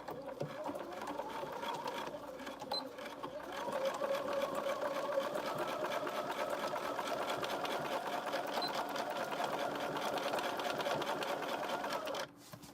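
Sewing machine stitching along the zipper of a fabric pencil case, a steady continuous motor whir with needle chatter that picks up speed after a few seconds, then stops abruptly near the end.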